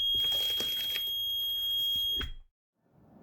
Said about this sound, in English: There is an emergency buzzer installed, to alert the driver if someone is attempting to exit the emergency window.